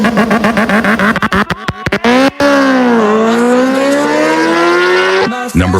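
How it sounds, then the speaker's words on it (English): A motorcycle exhaust is revved in quick sharp blips, then held in a long rising and falling roar, loud and close. "Ranking the best motorcycle exhaust."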